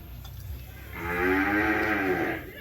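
A cow moos once, a long, loud, close call with rich harmonics that lasts about a second and a half over quiet outdoor background noise.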